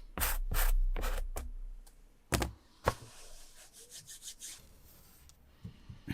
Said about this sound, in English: once you start sanding